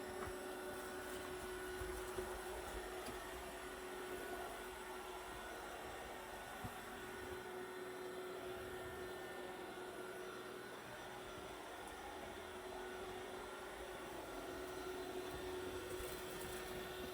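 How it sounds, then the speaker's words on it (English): A Dreame D20 Air Plus robot vacuum cleans the floor with a steady, quiet motor whine and airflow hum that stays constant throughout, faintly heard at a distance with no talking. "It's doing a good job of vacuuming."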